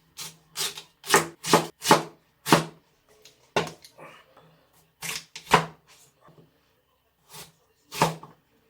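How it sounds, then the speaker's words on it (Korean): A knife chops radish into thick slices about 1 cm on a cutting board, a run of crisp, sharp thuds, close and distinct, coming in quick bursts with brief pauses and a few faint shuffling sounds between. "그럼 무부터 썰어 주겠습니다"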